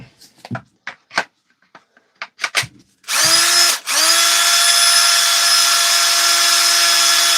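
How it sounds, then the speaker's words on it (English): A few sharp clicks and taps, then a Milwaukee M18 cordless drill on a repaired battery whirs up loudly, pauses briefly, and keeps running steadily at high speed. "Try her on a drill."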